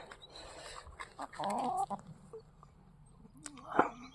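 Backyard laying hens cluck in short bursts near the microphone, a few soft calls early and then a louder squawk toward the end, with quiet stretches and a little faint background noise between them.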